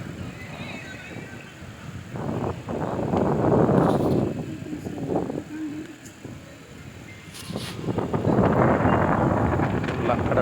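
Strong gusty wind on Kanyakumari beach with rough seas, buffeting the microphone in heavy roaring surges that swell and ease, someone speaking faintly beneath.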